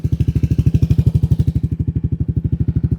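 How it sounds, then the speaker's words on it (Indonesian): Close-up, loud, rhythmic pulsing of a Yamaha Aerox turbo scooter's Cjiro aftermarket exhaust while revving, throbbing evenly at a fast beat and tapering slightly toward the end. "Nah, ini dia suara dari Cjiro di Aerox Alpha Turbo"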